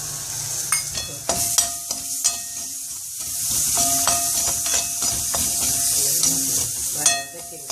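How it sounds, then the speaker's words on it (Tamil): Sweet potato curry pieces sauté in a pan with salt, cumin powder and chili powder. A loud steady sizzle runs throughout, broken by repeated sharp clicks and scrapes of a spoon stirring against the pan. "வதக்கிண்டு"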